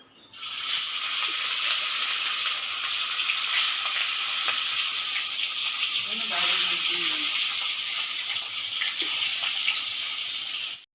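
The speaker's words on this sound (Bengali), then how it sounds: "তেল গরম হয়ে গেছে এবার মাছ দেবো" Catla fish fries in hot oil, a loud, close, continuous sizzle with a few light clinks and scrapes from the pan, no talking.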